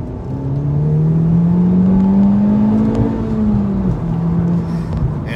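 A 2019 Honda Civic Type R in sport mode pulls hard under acceleration, its engine note climbing steadily in a loud, continuous drone with a brief dip near a gear change, then holding on, close and without talk.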